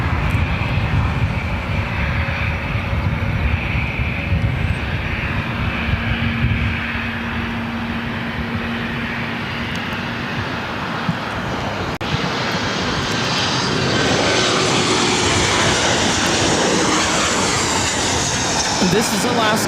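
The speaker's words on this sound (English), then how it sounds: "This is Alaska Airlines 1160 coming in from Portland on a 737-900." An Alaska Airlines Boeing 737-900 arriving from Portland at LAX roars steadily close by, its jet engine noise swelling and shifting in pitch as it passes, with people talking faintly underneath.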